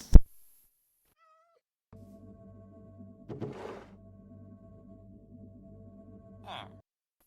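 A Minecraft cat gives a few short meows over a quiet game backdrop, with a steady hum and one sharp click at the start.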